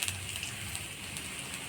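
Black cumin seeds (kalo jeera) frying in hot tempering oil in a kadai, a steady close crackling sizzle like light rain with scattered sharp pops throughout.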